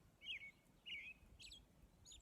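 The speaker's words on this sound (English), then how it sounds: "If you listen, you can hear the sound of birds." Birds chirp outdoors in a few short, bright tweets spaced apart, faint and somewhat distant over quiet background hiss.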